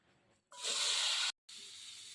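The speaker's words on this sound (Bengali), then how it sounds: "কাটা আলুগুলো আমি কাটলাম আজকে, দিদি কাটা নাই। হালকা তেল আছে, এই তেলে ভেজে নেব।" Cut potatoes sizzle in a little oil in a village kitchen, giving a loud, close hiss that surges up, breaks off for a moment, then returns slightly softer.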